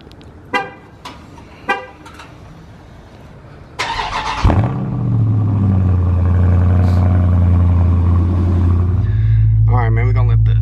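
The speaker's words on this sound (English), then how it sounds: "But let's give y'all a cold start real quick." A 2019 Dodge Charger Scat Pack cold start: a few short clicks and chirps, then the engine cranks and catches with a loud rising roar before settling into a deep, steady high idle close to the microphone.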